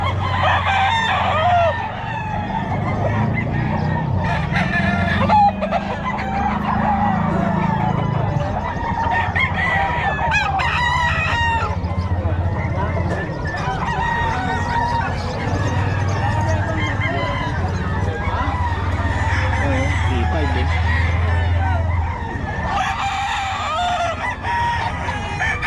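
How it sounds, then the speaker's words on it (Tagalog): Roosters crow repeatedly amid clucking chickens, with people talking over the busy, continuous poultry noise throughout. "Mga manok ni Boss Ken, no?"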